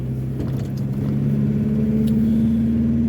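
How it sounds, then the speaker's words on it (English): A 1986 Mazda B2000 pickup truck on the move, its engine giving a steady low droning hum with a constant tone and road rumble, heard from inside the cab with no talking. "So currently I'm driving the project vehicle. The project vehicle is my 1986 Mazda B2000."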